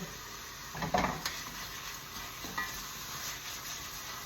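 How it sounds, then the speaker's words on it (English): Beef short ribs roll around in a spice mix in a hot pan, giving a close, steady sizzle with a clattering scrape near the start and softer stirring knocks after. "pop the ribs back in and roll them around in that spice mix a bit"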